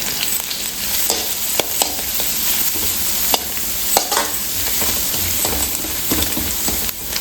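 Cabbage, carrot and capsicum are stirred in a hot pan, a steady sizzle broken by repeated scraping clicks of a spatula at an irregular pace, close and fairly loud with no voices.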